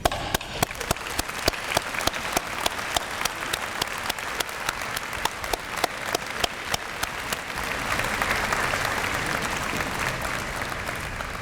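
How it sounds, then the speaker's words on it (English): Graduates at a university science convocation clap together, starting with sharp distinct claps that swell into steady, dense applause filling the hall for about eleven seconds, with no talk over it. "Graduates, please join me in applauding the support that they have given you."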